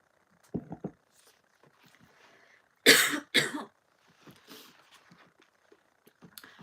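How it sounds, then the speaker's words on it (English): A person clears their throat and coughs up close in a quiet room: a few small throat sounds, then two strong harsh coughs, followed by faint shuffling noises. "Excuse me, whilst I clear my throat."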